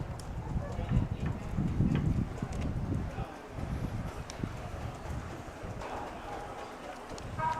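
Harness racing horses, three-year-old filly pacers, trotting onto a county fair racetrack, soft rhythmic hoofbeats under outdoor wind and rumble, with people talking nearby.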